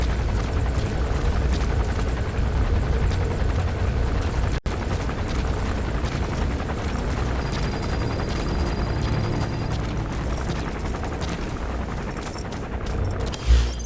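A helicopter flying in the video game Metal Gear Solid V: The Phantom Pain, its loud, continuous rotor thrum filling the whole stretch, with brief electronic tones and a sharp thump near the end.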